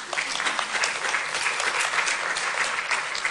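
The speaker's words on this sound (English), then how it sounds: "Please give her a round of applause." Audience applause for a speaker at a women in environmental sciences event, a short burst of brisk, even clapping from a crowd, loud and continuous.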